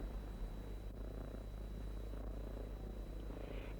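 A fat cat purrs steadily beneath a tasseled tablecloth, a low, continuous rumbling throb that stays close and even throughout, with no voices.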